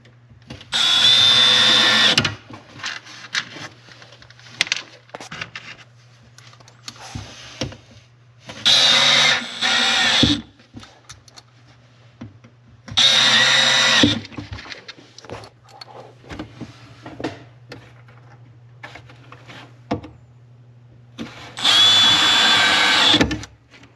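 A power drill drives screws into Blum/Richelieu drawer slides in four loud whirring bursts, each lasting one to two seconds, with quieter handling clicks and rustling in between.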